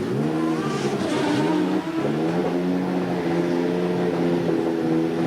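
A Lotus Renault turbo Formula 1 car with a Renault qualifying engine of well over 1,200 horsepower runs loud and close. It holds a strong buzzing drone, then dips briefly and climbs again in a rising rev, with no talk.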